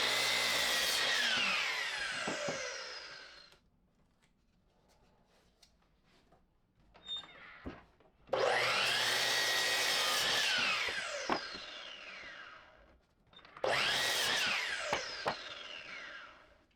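Saw cutting 2x4 wood boards into 9-inch lengths for a bench, in three loud rasping bursts with quiet pauses between them.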